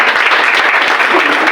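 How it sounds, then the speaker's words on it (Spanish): A church congregation applauds during a Spanish-language service, a short burst of dense, steady clapping from many hands, loud and close throughout. "¿Usted puede dar un aplauso a este Padre Celestial?"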